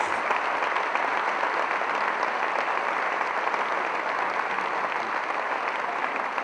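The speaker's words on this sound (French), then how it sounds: "Quand avec Valérie, ils sont acclamés sous ce chapiteau" Crowd applauding a rally driver and his co-driver under a dealership marquee tent, steady dense clapping throughout, close and even, with no voices rising above it.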